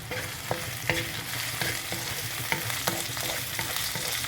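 Chopped onion sizzles as it browns in a frying pan, a steady hiss broken by regular clacks of a utensil stirring and scraping the pan, close and fairly loud, with no talking.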